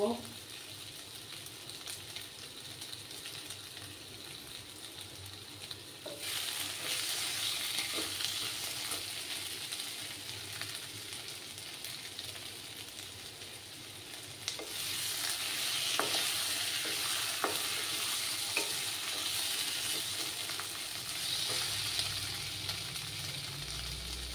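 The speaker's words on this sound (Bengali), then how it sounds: "আলুটাকে একটু সময় ভাজা ভাজা করে নেব" Potato pieces fry in a pan and get stirred, giving a continuous sizzle that grows louder after the oil is disturbed, with scraping spatula strokes and occasional clacks; quiet overall, no voices.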